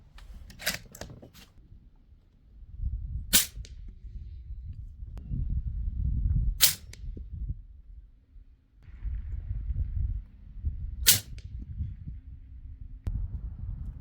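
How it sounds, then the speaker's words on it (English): Several suppressed rifle shots from a custom Howa 1500 mini chambered in 300 Blackout, each a sharp, quiet crack spaced a few seconds apart outdoors, with light background rustle between shots. "Definitely one of the quietest gunshots I've ever heard."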